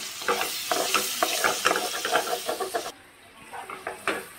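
Prawns and onions frying in a pan for an Andhra prawn gongura curry, stirred close up: a steady sizzle broken by repeated scraping stir strokes, easing to a quieter fry partway through.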